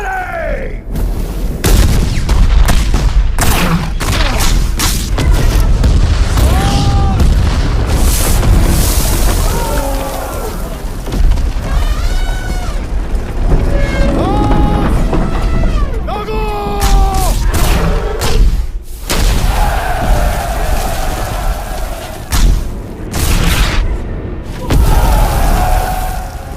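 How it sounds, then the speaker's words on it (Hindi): Cannons fire on a battlefield in a Hindi war film, loud deep booms repeating irregularly amid a dense din of battle noise, with shouting voices and speech throughout. "अपनी तोपें दागो इन पे"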